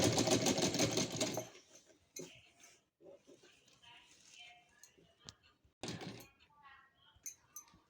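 A sewing machine stitches a net fabric gown, with a fast, loud whirring burst at the start and a second short burst later, separated by quiet handling noises and a voice talking.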